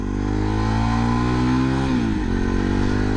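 A 2022 Vitacci Titan 250, a small Chinese-built motorcycle, revs up through a gear with a steady, loud engine drone, then a brief dip as it shifts and pulls on again, up close with no talking.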